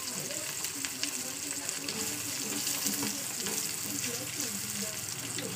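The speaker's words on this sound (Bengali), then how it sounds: "লবণ হলুদ দিয়ে দিয়েছি তেলের মধ্যে, ডিমটা ভাজা করে নেবো" An egg fries in hot oil seasoned with salt and turmeric in a home kitchen, a steady soft sizzle and crackle that continues quietly throughout.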